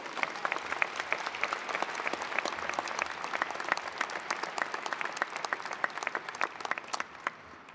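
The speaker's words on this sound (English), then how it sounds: "Let's give all of them a huge round of applause." Sustained applause from a large audience at a university graduation ceremony, dense steady clapping that fills the hall without pause.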